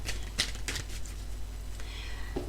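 Cards being shuffled in quick riffling bursts, a few crisp flutters spaced across the moment, with no voices.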